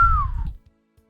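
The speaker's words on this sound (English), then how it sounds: "I let out a whistle." A person lets out a short, clear whistle that slides downward in pitch and stops after about half a second, over a low rumble, then quiet.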